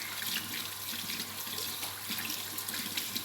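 Tap water runs steadily, rinsing skin during postpartum perineal care on a mother, a continuous close hiss with no break and no voices over it.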